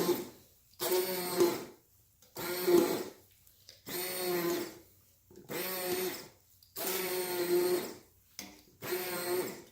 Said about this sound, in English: I'm going to take my handy dandy little immersion blender here and we're just going to go ahead and we're going to start blending this down